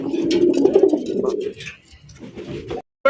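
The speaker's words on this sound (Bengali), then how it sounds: "আকাশী কালারের রাজগোল্লা কবুতর তাও আবার লাল চোখের পাইতেছেন দেখেন" Sky-blue Rajgolla pigeons with red eyes coo close by in a loft, low throaty rolling calls repeating in bursts, with a few soft chirps and rustles mixed in.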